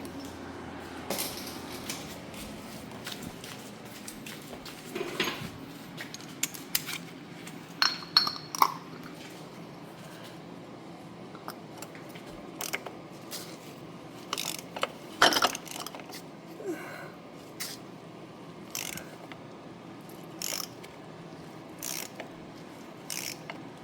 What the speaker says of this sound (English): So I bust out my my torque wrench and find 25 Newton meter. And tighten this bad boy down.